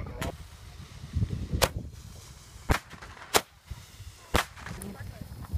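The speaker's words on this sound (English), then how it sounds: "Now that's a real Roman candle." Fourth of July Roman candle fireworks fire in a backyard show, five or six sharp cracking pops spaced about a second apart, loud and close over a low background rumble of movement and murmuring.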